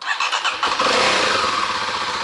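A Kawasaki D-Tracker KLX 250 motorcycle starts up close by. A brief starter whine and cranking leads straight into a loud, steady engine idle, with no talking over it.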